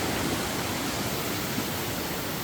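Steady, dense rush of a mountain valley stream flowing near a cabin, continuous broadband water noise with no breaks, heard close and even throughout.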